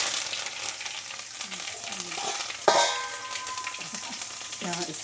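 Mustard seeds, cumin and curry leaves fry in hot oil for a mango pickle tempering, giving a steady close sizzle with a sharp crackling burst midway and soft stirring sounds, while a faint voice murmurs near the end.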